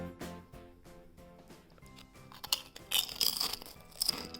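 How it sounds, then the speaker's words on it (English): Paper-thin Lay's Creme Brulee Milk Tea potato chips crunch loudly up close, with a series of sharp, crisp bites and chewing bursts growing denser toward the end. "Definitely passes the crispy and crunchy test, and it has a sweet floral flavor on first bite."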